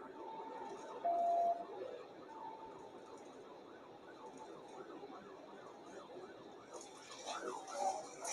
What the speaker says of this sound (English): the sound of the engine almost completely drowns out the siren